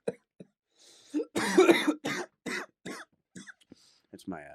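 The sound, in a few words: cough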